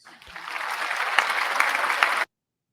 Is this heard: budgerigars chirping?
no